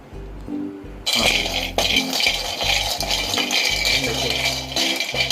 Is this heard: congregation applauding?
no